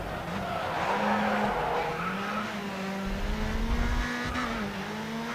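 A race car in GRID Autosport on the Nintendo Switch holds a steady, loud engine drone while its tires squeal and skid continuously through a corner, close up and with no talking.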